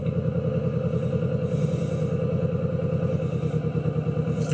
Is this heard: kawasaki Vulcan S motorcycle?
yes